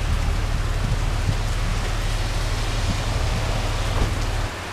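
Steady downpour at a roadside gas station in New Brunswick, Canada, a continuous close hiss of rain on surfaces with a low rumbling undertone.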